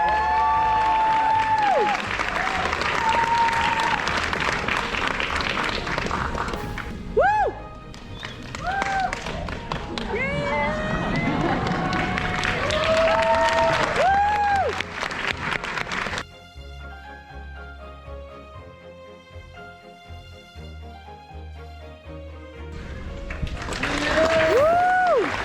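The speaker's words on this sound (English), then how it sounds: "there was still a lot of applause" A large audience applauds steadily through a dental school graduation ceremony, with cheering and whoops rising over the sustained clapping, then a quieter stretch where voices and music come through before the applause swells again.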